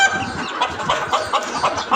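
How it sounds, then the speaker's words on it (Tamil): Several hens clucking together inside a cage coop at morning opening time, a close, busy chorus of overlapping clucks and short calls throughout, with no talking. "இதுலேயுமே ஒரு 7 கோழி 8 கோழி கிட்டே இருக்குது"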